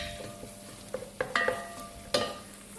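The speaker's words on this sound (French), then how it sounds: "vous mélangez bien le concentré avec la viande hachée" A spoon scrapes and knocks against a pan while tomato paste is stirred into frying minced meat for chorba, several distinct close clacks over a low, quiet sizzle, with no talking.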